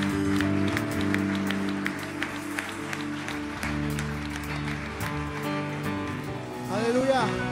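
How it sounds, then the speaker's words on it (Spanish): A church congregation claps along during a service, scattered sharp claps over sustained music, with a voice rising briefly near the end. "Le damos un fuerte aplauso al Señor."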